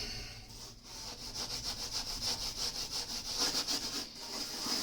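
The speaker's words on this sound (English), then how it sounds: "maybe we try just rubbing the crumbs around" Crumbs being rubbed back and forth on oven door glass, making a fast, even series of gritty scrubbing strokes, close and fairly quiet with no talking.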